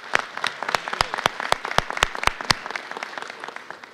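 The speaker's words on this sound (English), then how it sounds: "So can we give him a round of applause?" An audience applauds for the governor at a public event. Sharp, rhythmic unison claps ring out near and loud, then a denser scatter of clapping carries on more softly.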